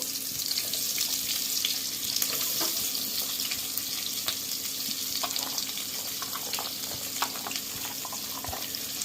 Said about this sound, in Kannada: ಎಣ್ಣೆ ಕಾದಿದೆ, ಈರುಳ್ಳಿ ಹಾಕೋಬೇಕು